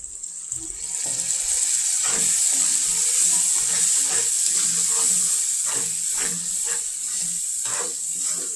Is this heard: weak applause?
no